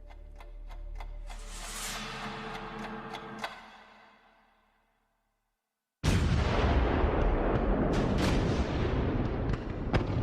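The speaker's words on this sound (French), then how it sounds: "L'escadron de l'amiral Somerville lâche l'une des plus grandes bordées de canons de l'histoire maritime." Naval guns of Admiral Somerville's British squadron fire a massive broadside at Mers el Kebir in 1940. After a tonal musical passage and a brief silence, a sudden loud, sustained roar of heavy gunfire erupts and rumbles on with sharp repeated cracks.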